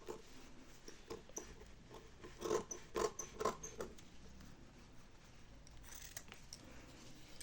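Scissors cut through denim jeans being made into fringe slippers, a run of faint, close crisp snips and rasping fabric crunches, densest in the middle and then trailing off into soft rustling.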